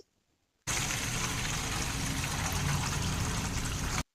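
Mutton being washed under running water for ambade ki bhaji gosht, a steady loud pouring and splashing rush that starts abruptly and runs unbroken for several seconds before cutting off, with no talk.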